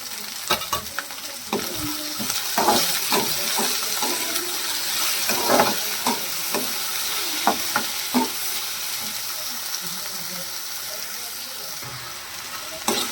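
Okra frying in oil with salt and being stirred in a pan, giving a steady sizzle broken by repeated scraping stir strokes, close and fairly loud, with no talking.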